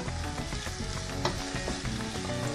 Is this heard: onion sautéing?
yes